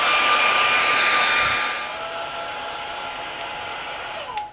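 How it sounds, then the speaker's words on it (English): A hair dryer blowing on fabric paper coated with matte medium, a steady loud whooshing roar that drops to a lower, softer blow partway through, then cuts off near the end. "I'm going to take a dryer to this now and start drying this"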